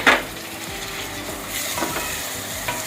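Chopped tomatoes hitting a pan of browned onions for a desi-style peanut bhajiya curry, a steady close sizzle and frying hiss with soft stirring scrapes, one brief sharper splutter at the start.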